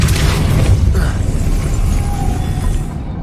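A Depulso spell strikes in Hogwarts Legacy, landing as a loud, close, deep boom with a rumbling burst that decays over about three seconds, with no talk.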